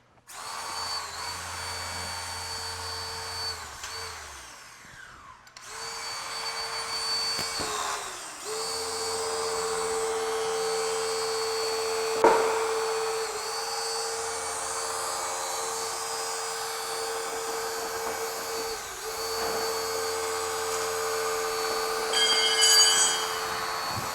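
Powered rescue tool working on a car door during an EMS auto extrication, a steady high whine with periodic stops and restarts, occasional metallic creaks and pops of the door as it is forced open.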